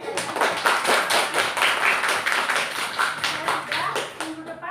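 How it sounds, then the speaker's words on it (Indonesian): A class gives a round of applause, lively hand clapping running steadily throughout at close range, with voices mixed in underneath. "Oke, tepuk tangan buat"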